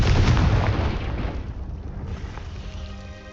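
A Confringo fire spell in Hogwarts Legacy goes off as a loud, booming blast that opens the clip and rumbles away over a few seconds.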